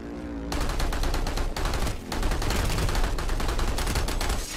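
Gunfire in the online shooter game PlanetSide 2: loud, dense bursts of rapid automatic shots in sustained fusillades with a brief pause midway, close and dominant with no talk.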